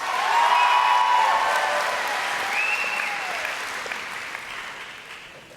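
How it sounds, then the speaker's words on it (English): At the McNary 2017 graduation ceremony, an audience claps for the scholars. The dense applause is loud at first and gradually fades, with faint whistles and cheers over it. "Let's give these scholars one big round of applause"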